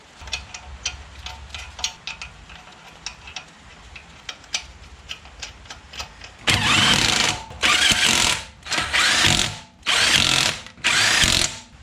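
A power tool runs up lug nuts onto a front wheel of a 1992–2002 Toyota Camry after a broken lug stud is replaced, first quiet clicking and ticking, then five loud close bursts of whirring and rattling separated by short pauses.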